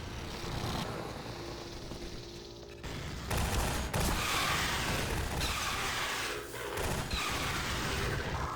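Half-Life 2 combat, with loud bursts of gunfire and explosive booms coming one after another, dense and close, with no pause between them.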